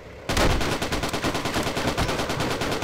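Rapid automatic machine-gun fire from the Battleground Europe World War II combat game, a steady fast stream of loud cracking shots with no gaps from start to finish.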